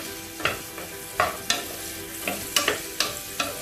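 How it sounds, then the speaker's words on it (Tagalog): Butter hits a hot pan while shrimp carbonara with tricolor fettuccine is being made, giving a steady soft sizzle broken by sharp clicks and scrapes of stirring. "Ayan, nilalagay na natin yung butter."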